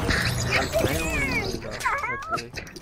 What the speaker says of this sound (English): It's just a regular dog.